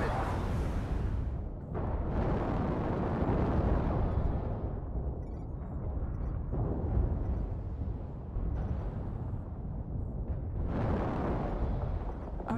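Artillery strike explosions in a combat video game: dense, continuous booming blasts and rumbling bursts that roll on without pause, loud and heavy throughout, with brief dips between volleys and no speech.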